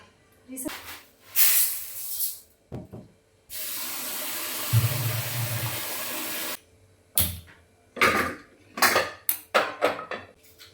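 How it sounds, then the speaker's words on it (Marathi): Rice gets washed in a pot in a kitchen: clattering pot and utensil knocks, a stretch of running tap water pouring in, then more sloshing and clinks, with someone talking in between. "2-3 वेळा तांदूळ धुवून घेते."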